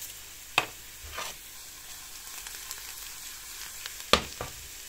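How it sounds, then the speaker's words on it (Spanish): Chopped onion sizzles steadily in a hot pan, a continuous bright frying hiss with two sharper spatter bursts near the start and end, close and fairly quiet, no voices. "Echamos la cebollita picada y sofreímos bien"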